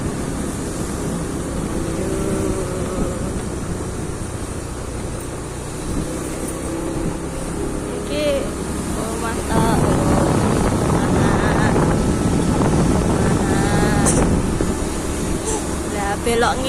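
A motorbike rides along streets through a residential housing area on a foggy morning, its engine droning steadily under wind buffeting, growing louder partway through, with a voice talking over it.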